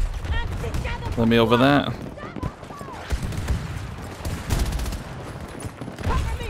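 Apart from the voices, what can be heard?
sentry gun firing in Battlefield 2042, video game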